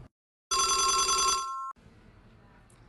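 A telephone rings loudly once with a long electronic bell tone lasting about a second, then cuts off into a quiet room hum.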